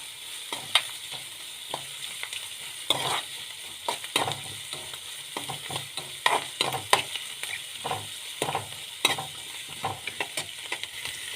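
Chopped carrot and other vegetables sauté in a pan for poha upma, with loud scraping stirs and a spatula clattering against the pan at irregular intervals over a low, steady sizzle. No one speaks.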